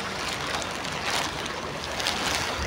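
Swollen creek risen to river size after heavy rain, rushing water making a steady, dense roar that fills the whole stretch without pause, with no voices over it.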